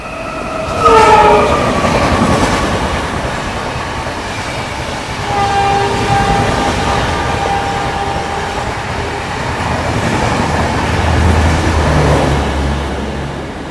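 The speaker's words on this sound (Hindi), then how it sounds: "ये देखो किसी ट्रेन की क्रॉसिंग के चक्कर में रुके हुए हैं अभी हम लोग।" A passing train crosses at Phillaur Junction railway station in India, a loud steady rumble and rattle of rail cars with a horn blast near the start and continuous rolling noise throughout.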